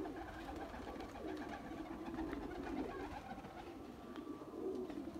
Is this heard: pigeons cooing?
yes